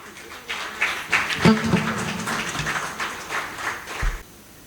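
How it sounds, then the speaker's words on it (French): An audience at an awards ceremony breaks into moderate applause, the clapping rising, holding steady and then stopping abruptly, with a few voices mixed in. "J'invite Madame Arlette Saizono-Bello à prendre la parole sous vos applaudissements"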